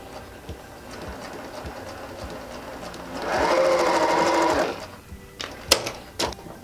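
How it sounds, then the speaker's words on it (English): A sewing machine stitches quilt fabric for a cat quilt in one short, steady burst of rapid whirring, followed by a few sharp clicks and handling sounds in a quiet room. "I'm going to take this over to my sewing machine. I'm just going to tack these guys down."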